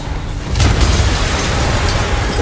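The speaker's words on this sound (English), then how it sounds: "An explosion just... I saw it." An explosion in Marvel's Spider-Man video game: a loud, deep, sustained boom swells and rumbles on as a dense, continuous wash of noise.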